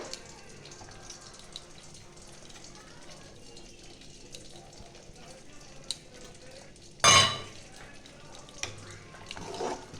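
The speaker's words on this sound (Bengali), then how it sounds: "এবার আমি নাড়িয়ে চাড়িয়ে নেব।" Khichuri with ghee, garam masala and coriander leaves stirred in a pot: soft, faint scraping and shuffling, then one brief loud clatter near the end before the quiet stirring resumes.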